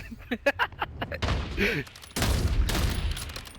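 Sniper rifle no-scope shot in a first-person shooter game, heard amid a burst of loud gunfire and explosive game effects after a few sharp shots at the start.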